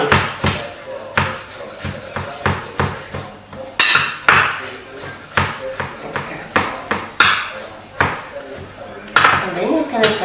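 A knife chops ingredients very fine on a cutting board for homemade sirloin beef hamburger patties, a steady rhythm of close, sharp taps and knocks with a few louder whacks throughout.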